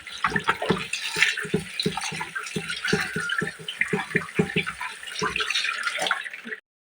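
Cauliflower is rinsed under running tap water, giving a close, irregular splashing and gurgling as the florets are turned and washed, ending abruptly.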